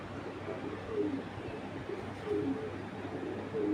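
Racing pigeons coo softly in a loft, low murmuring calls repeating steadily under a constant background hum, with no voices.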